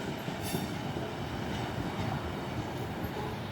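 A two-coach train pulls into Manchester Piccadilly station on its run from Rose Hill Marple, giving a steady low rumble of rolling wheels with faint squeals, heard from the platform at a moderate distance without talk.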